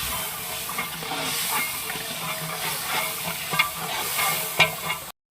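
Yogurt mixture hits a hot pot for chana pulao cooked in a large deg, giving a steady, fairly loud sizzle and hiss with a few sharp crackles near the end, no voices.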